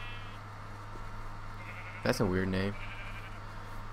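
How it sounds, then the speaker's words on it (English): A sheep in the Minecraft video game gives one short, bright bleat near the middle of the clip, standing out over a steady low hum, with a voice speaking just before it. "They're sheeps. Hi sheeps."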